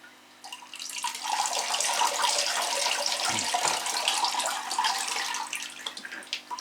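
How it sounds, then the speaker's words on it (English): Water pours steadily from a can or hose onto potted Phalaenopsis orchids indoors, a continuous close splashing and trickling stream that starts abruptly and runs throughout. "So we'll give this a watering."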